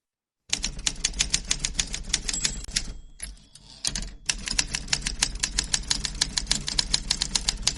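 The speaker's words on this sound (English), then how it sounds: "Let's hit the typewriter and move on" A typewriter sound effect: rapid, evenly spaced mechanical key strikes clatter loudly, pause briefly around the middle, then resume the same brisk rhythm.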